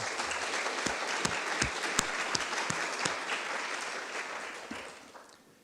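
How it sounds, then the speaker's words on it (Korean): A church congregation gives a warm round of applause, with dense clapping and a few sharp individual claps standing out before the sound gradually fades away near the end. "우리 격려의 박수 한번 하겠습니다."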